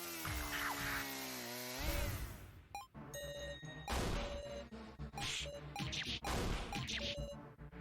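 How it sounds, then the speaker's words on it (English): In the Your Turn To Die video game, an eye socket is drilled with a grinding, buzzing mechanical whine. Sharp crashing impacts and bursts of whirring join it over a tense musical score, rising and falling in repeated surges. "Eye socket gets drilled."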